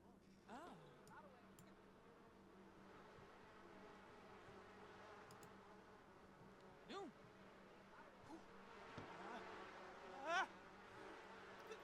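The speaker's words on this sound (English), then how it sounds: "I'm getting attacked by the bees." Bees buzzing around a beehive while honey is collected in The Sims 4, a steady low insect hum under scattered game sounds and short Simlish-style vocal chirps.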